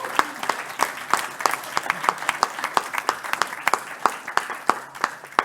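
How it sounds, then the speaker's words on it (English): A church congregation applauding, a dense run of clapping with sharp individual claps standing out, sustained and fairly close throughout, with a little voice underneath. "So how about you give these guys a round of applause?"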